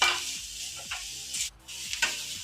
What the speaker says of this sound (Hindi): पनीर के सेहो हम फ्राई कर लेब